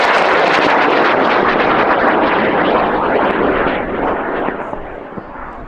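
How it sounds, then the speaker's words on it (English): An Aerotech M1315 high-power rocket motor ignites and launches at a rocketry event, a loud sustained roaring blast that fills the whole clip and fades slightly toward the end as the rocket climbs away. "we're going to fly in 5, 4, 3, 2, 1, ignition."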